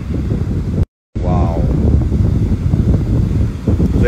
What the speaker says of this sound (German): Hört mal zu, wie die Wellen, also die Geräusche von den Wellen.